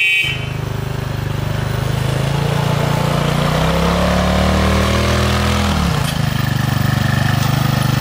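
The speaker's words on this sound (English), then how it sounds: "Honk!" A child's go-kart horn on a wooded uphill trail sounds a loud, sustained droning tone that holds steady for several seconds, sags in pitch near the end, then returns, with engine noise underneath.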